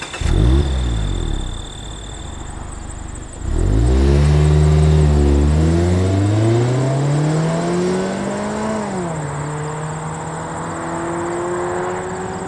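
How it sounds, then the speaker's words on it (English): A Mazda MX-5 with an automatic transmission accelerates hard, its engine revving up through rising pitch with an audible shift, then pulling steadily onward, loud and close, with no talking. "One of the big performance differences with the automatic and an MX-5 is its acceleration"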